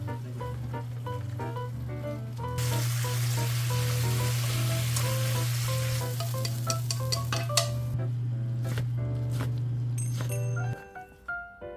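Food stir-fried in a pan on the stove at medium heat gives a constant close sizzle under a steady low hum, with repeated clinking and scraping strokes, then the hum stops and a few separate clatters follow.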